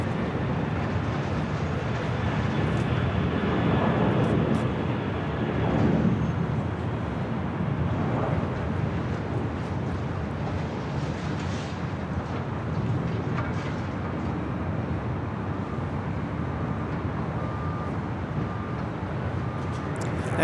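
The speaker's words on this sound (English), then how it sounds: "That is DHL 652 departing to Anchorage on a 747-400 freighter." A DHL Boeing 747-400 freighter departing Los Angeles International Airport, a broad, steady jet roar heard from a distance and swelling and easing gently over about twenty seconds, without talking.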